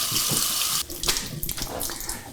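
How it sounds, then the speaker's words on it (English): Cold running tap water rinses cooked soba noodles in a sink, a strong steady splash that shifts and breaks as the noodles are moved under the stream. "I'm gonna drain it and rinse it under cold water to stop it from cooking anymore."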